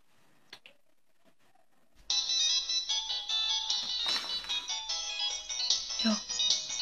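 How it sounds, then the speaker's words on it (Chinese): A mobile phone ringtone sounds for an incoming call in a quiet bedroom at night, a loud, steady electronic melody starting abruptly after a near-silent pause and playing continuously, with a brief voice or movement near the end. "单位来的电话，你先睡吧，我出去接。"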